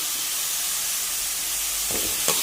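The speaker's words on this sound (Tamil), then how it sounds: "நல்லா இந்த ஆனியன் வதங்கட்டும்" Onions frying in a pan for goat blood fry give a loud, steady hiss and sizzle throughout, with a couple of faint utensil knocks near the end.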